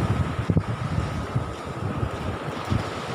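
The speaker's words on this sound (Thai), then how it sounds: "ลมตะวันออกเข้า" Wind gusts across Nong Bua beach in Thailand as an east wind blows onshore, a steady rough rumble with low buffeting bursts against the microphone and no voices.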